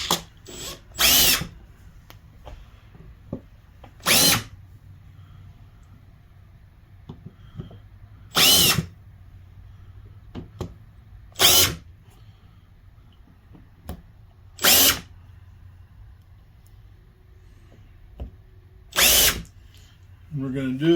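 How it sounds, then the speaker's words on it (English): A power drill lightly countersinks six holes in a plate for an Antikythera mechanism kit. Short, loud, close whirring bursts repeat at steady intervals with quiet gaps between them. "We're going to take and lightly countersink our 6 holes."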